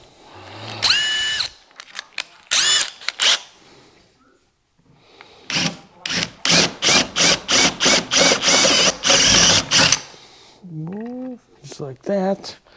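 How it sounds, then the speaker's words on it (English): A power drill bores all the way through a metal bar in a garage, running in repeated short bursts of whirring and grinding, close and loud, with a few words spoken between bursts. "And this one I will drill it all the way through so I can stick it halfway in it."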